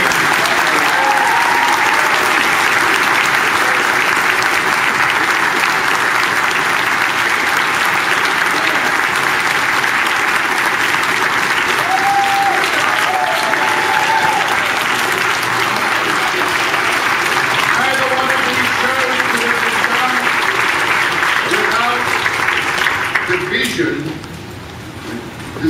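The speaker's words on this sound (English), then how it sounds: "I want a big round of applause for all our guests here." A convention audience gives a long, loud round of applause for the guests of a Battlestar Galactica panel, sustained dense clapping with some cheering and voices that fades away near the end.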